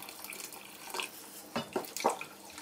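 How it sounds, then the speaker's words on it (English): Water is poured into a cooking pot of lentils, giving a few short splashing, trickling bursts close by against a quiet kitchen background. "I think I'm going to add a little bit more water"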